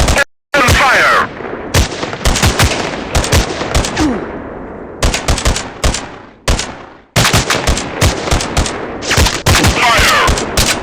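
Rapid gunfire in a first-person shooter war game on an Android phone, loud bursts of automatic shots with brief pauses between volleys and booming impacts, continuing almost throughout.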